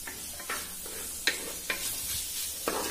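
Vegetables stir-frying for street-food-style chicken fried rice, with a steady low sizzle broken by several sharp scraping stirs of the spatula against the pan.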